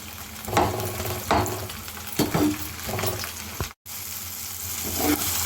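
Tomato and ivy gourd pieces frying in a pan, a steady close sizzle broken by several stirring scrapes at irregular intervals, with no voices.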